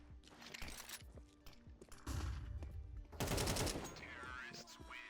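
Gunshots in Counter-Strike 2, a series of close, sharp shots and bursts growing denser and louder toward the middle, with commentary talk faintly underneath.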